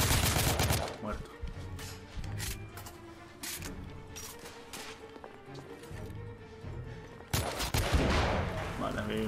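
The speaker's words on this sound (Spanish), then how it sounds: "¿Quién me dispara? ¿Quién osa dispararme?" Bursts of rapid gunfire and sharp shots from the video game The Order: 1886, loud and dense, with some game sounds between volleys.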